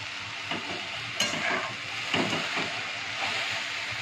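Fenugreek leaves with moong dal fry in a pan under a steady, close sizzle, and a spoon stirs through them in a few scraping strokes. No one speaks.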